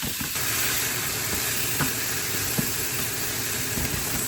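Bacon sizzles hard in a pan on the highest heat, a steady bright hiss with faint pops and crackles throughout and no talking.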